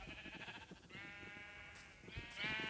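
Sheep in a Minecraft pen bleat several times in quick succession, wavering nasal baas overlapping closely, fairly faint with a soft background shuffle.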